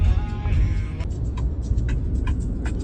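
A car drives along a road in Dubai, a steady low engine and road hum heard from inside, with faint ticking and clicks over the top.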